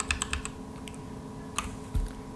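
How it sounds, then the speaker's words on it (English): Computer keyboard keys being pressed, a quick cluster of light clicks at the start followed by a few sparse, isolated taps, quiet and close with a low hum underneath. "we just want to press Shift on your keyboard"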